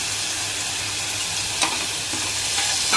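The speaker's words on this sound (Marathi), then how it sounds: "कांदा छान परतल्यानंतर त्याच्यात मटकी ॲड करून" Onion and moth beans sautéing in a pan with a pinch of asafoetida, giving a loud, steady close sizzle with faint stirring scrapes, for a spicy Puneri misal breakfast.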